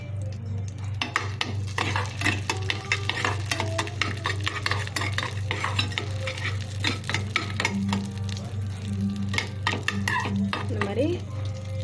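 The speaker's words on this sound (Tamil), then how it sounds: "இந்த மாதிரி ஏலக்காய், முந்திரி, நம்ம பூசணி விதை இருக்குது, நம்ம இப்போ நல்லா வறுத்துக்கலாம்" A spoon clatters rapidly and continuously against a tawa while cashews, cardamom and pumpkin seeds roast in ghee. Quiet sizzling and a constant low hum run beneath the busy scraping, and no one speaks.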